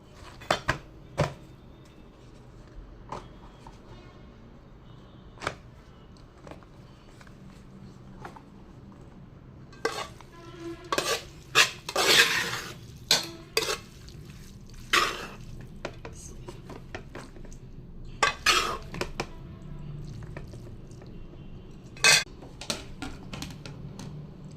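Dishes and cutlery clink and clatter at close range in a home kitchen as a lunch box is packed, irregular sharp knocks and scrapes coming in bursts, busiest in the middle stretch.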